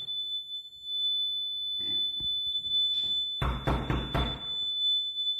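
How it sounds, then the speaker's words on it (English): A smoke alarm shrills indoors with a constant piercing high tone throughout, while loud knocking or thumping and some movement noise break in near the end. "Smoke alarms going off."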